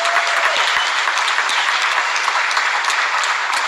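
Fans from Tajikistan and Chechnya applaud each other at a fight event, a steady, dense wash of clapping from a large crowd with a few sharper claps standing out near the start.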